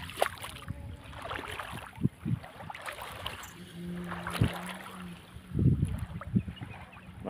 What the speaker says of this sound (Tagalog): Malakas na yung agos.